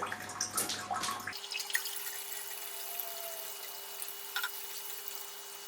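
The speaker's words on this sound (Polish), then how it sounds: "woda znowu zaczęła zlatywać do akwarium" Water trickles and drips steadily back into an aquarium tank after a pump swap to a smaller pump, a soft continuous splashing with a low electrical hum underneath.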